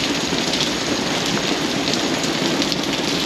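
Steady rain falls on a Lisbon street, a dense, even patter at moderate loudness with no voices over it.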